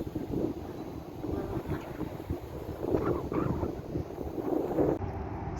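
Strong autumn evening wind in Calgary, Alberta rushes and buffets the microphone continuously, a dense roaring noise with gusty swells and no voices.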